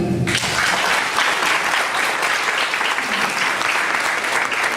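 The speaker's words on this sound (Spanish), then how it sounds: "para quien pido un fuerte aplauso" Audience applause after a judge of a criminal appeals chamber is introduced at a legal lecture, a loud steady wash of many hands clapping that starts abruptly and holds throughout.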